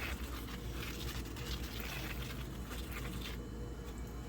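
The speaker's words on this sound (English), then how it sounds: "I'm going to add some water to that." Water pouring steadily into a worm bin with a continuous, splashy trickle, faint and close, with no speech.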